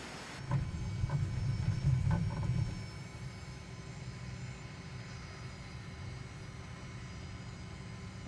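A plane's engine drones steadily in Microsoft Flight Simulator during formation flying, a low hum with a brief louder swell near the start before settling into an even, continuous tone.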